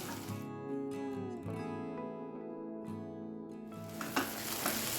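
Tomato and red chili masala is stirred in a hot pan, a soft sizzle with scraping spoon strokes rising and falling close by, with some background tonal hum.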